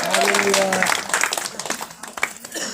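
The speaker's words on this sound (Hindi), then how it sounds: "जोरदार ताली बजा के परमेश्वर को महिमा दें" A congregation at a Christian healing prayer meeting claps loudly, the dense applause starting under a voice and continuing on its own in uneven bursts.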